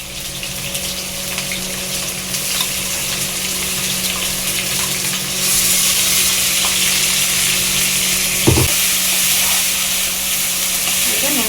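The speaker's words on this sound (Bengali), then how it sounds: "আলুটা ভাজছি, আর আলুর মধ্যে মশলা দেবো।" Potatoes fry with spices such as ginger, garlic, cumin, mustard and chilli in a pan, a loud, close, steady sizzle that grows stronger midway, with a brief clatter near the end and no clear speech.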